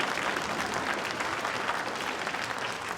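An audience at a school winter concert applauds the Millbrae Education Foundation volunteers, a steady, even wash of clapping held at moderate distance for the whole stretch.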